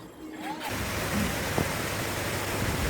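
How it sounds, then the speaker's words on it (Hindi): Heavy rain pours down in the season's hardest downpour, which has lasted since early morning, making a dense, unbroken hiss that stays loud and steady throughout. "बहुत ज़्यादा बारिश हो रही है"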